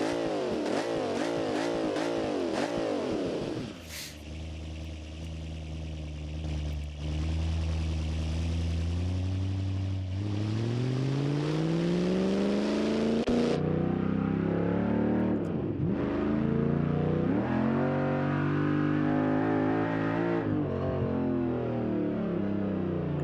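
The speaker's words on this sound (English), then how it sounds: "Oh good, we got some transmission whine." A drag-prepped notchback car in BeamNG.drive gives off a loud transmission whine that climbs in pitch over repeated gear pulls under a strong revving engine, with brief shifts and lifts between runs.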